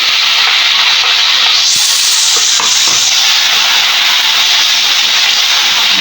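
Onions sautéing in a pan as tomatoes go in, a loud, close, continuous sizzle with a brief burst of scraping and stirring partway through, no talk.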